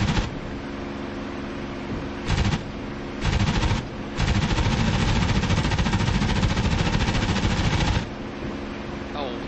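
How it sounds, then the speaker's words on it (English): Aircraft guns hammer a Flak 88 anti-aircraft site during a strafing run in a WWII warbird flight simulation, with loud sustained bursts of automatic fire, several short bursts followed by a long continuous one, over steady engine drone. "We've got enough ammunition to make a gun run on a AAA site"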